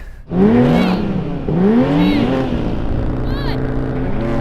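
BMW M4 and M440i cars launching off the line in a drag race, loud engines revving hard with rising gear-change sweeps, close and continuous, with a person talking briefly over it.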